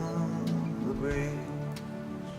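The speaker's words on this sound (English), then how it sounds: "The rain is beginning to fall on Skid Row" Rain starts falling on Skid Row, a soft steady patter under a low hum and murmuring voices.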